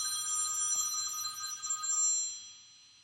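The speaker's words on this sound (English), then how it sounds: "my telephone rang." A telephone rings with a bright, continuous electronic trill, loud and close, sounding alone before tapering off at the end.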